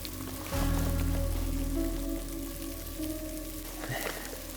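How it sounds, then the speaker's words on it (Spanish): Steady heavy rain during an electric storm hisses softly and continuously on a solo camping site, with a low rushing undertone and faint tonal hum in the background. "Está lloviendo mucho, está todo muy húmedo."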